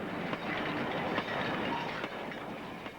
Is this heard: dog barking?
no